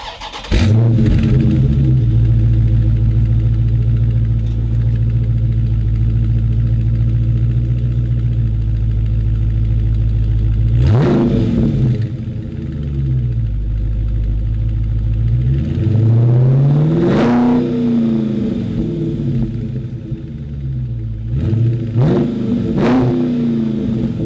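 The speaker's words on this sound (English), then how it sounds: "Let's get a little startup on it with just the stock exhaust, so we can hear it before and after." A Scat Pack car engine with stock exhaust idles with a low rumble, then rises in several short revs spaced apart, each climbing and falling back to idle.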